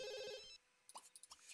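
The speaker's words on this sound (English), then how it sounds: "Yeah, the phone starts ringing now, of course." A telephone rings in the life-simulation game The Sims: Life Stories, one loud electronic ring up front, then quieter chirpy game tones and clicks.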